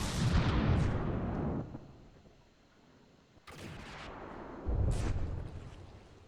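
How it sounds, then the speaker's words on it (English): Two booming torpedo explosions in a video game naval battle, the first a loud broad blast fading out over about a second and a half, the second arriving after a quiet gap with a sharp onset, with no talk. "That torpedo was rather nasty."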